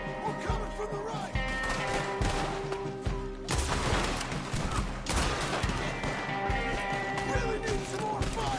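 Dense gunfire in the Red Dead Redemption 2 video game, rapid overlapping shots and heavy bursts in a chaotic firefight, with shouting voices mixed in throughout.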